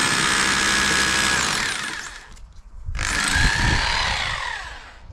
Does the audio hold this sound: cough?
no